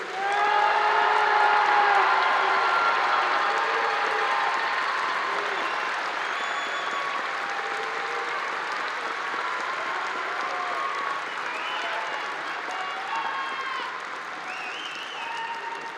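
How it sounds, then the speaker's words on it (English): A graduation audience at a high school ceremony gives a long, sustained round of applause and cheering, loud at first and gradually thinning out over about sixteen seconds, with scattered shouts mixed in. "One more round of applause for the class of 2024."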